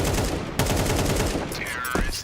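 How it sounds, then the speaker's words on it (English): Rapid rifle fire rattles in dense bursts during a professional Counter-Strike match, loud and close, with overlapping shots throughout and a commentator's voice running over the gunfire. "Riflers firing up."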